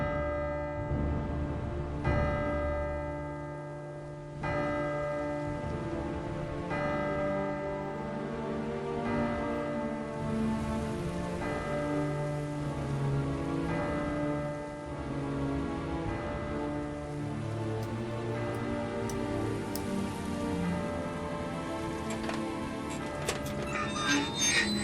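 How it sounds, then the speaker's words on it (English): A chiming bell melody plays from a purple punch card in the Syberia video game, a slow sequence of clear ringing tones that overlap and sustain steadily with no talk over it. "So the purple one was just chiming."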